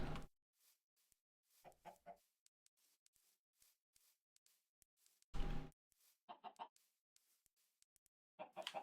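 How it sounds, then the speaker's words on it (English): Minecraft chickens cluck in short, separated bursts over nearly nine seconds, with sparse soft clicks and game noises in the quiet gaps between calls. "Come on, chicken."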